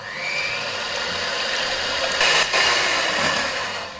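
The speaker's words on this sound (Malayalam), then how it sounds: "ഇനി നമുക്ക് 3 മുട്ട എടുത്തിട്ട് അതിലേക്ക് 1 ടീസ്പൂണോളം വാനില എസൻസ് കൂടെ ചേർത്തിട്ട് നല്ല പോലെ തന്നെ ബീറ്റ് ചെയ്ത് കൊടുക്കാം." Three eggs with a teaspoon of vanilla essence are beaten for a chocolate cake batter, heard as a steady, moderately quiet mechanical whir that rises briefly near the middle and then settles back.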